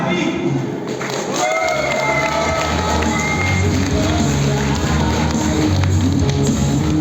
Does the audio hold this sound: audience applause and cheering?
yes